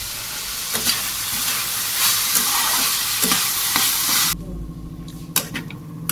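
Flattened rice pulao with onion and cashews being stir-fried in a pan, a steady sizzle with scraping stirs throughout, close and loud, then shifting to a lower frying hiss near the end.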